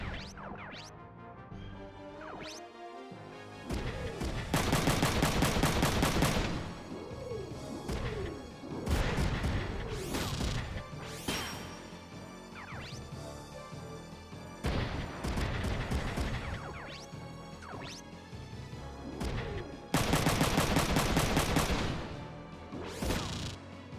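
Video game gunfire from Front Mission 3: bursts of loud mechanical bullet fire strike an enemy mech's body and legs, repeated volleys with impact crashes, whooshes and a continuous game soundtrack underneath.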